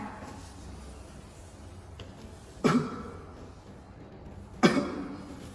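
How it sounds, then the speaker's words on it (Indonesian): A patient in a nursing practice session gives two sharp, separate coughs a couple of seconds apart, close and fairly loud over quiet room noise. "sambil menghembuskan nafas, Mas keluarkan batuk dan sputumnya ya"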